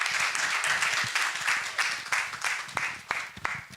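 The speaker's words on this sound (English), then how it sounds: "let's clap for him" Audience applause following a panel discussion at a World Asthma Day event, a steady patter of clapping with a few sharper individual claps standing out, moderately loud and continuous throughout.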